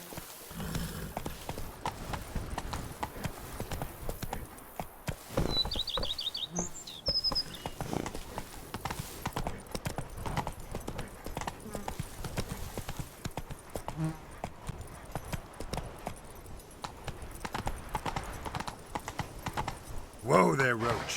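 Roach, Geralt's horse in The Witcher 3: Blood and Wine, clip-clops along in a steady, even gait, with occasional bird chirps and faint voices drifting in and a louder thump near the end.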